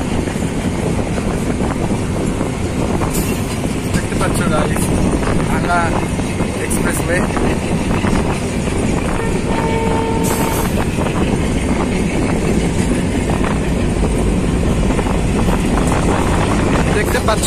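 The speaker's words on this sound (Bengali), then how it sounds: "পদ্মা স্টেশনে ট্রেনটি যাত্রা বিরতি করছে" A train running near Padma station in Bangladesh gives a steady, loud rumble with rattling throughout, while someone talks over it close by.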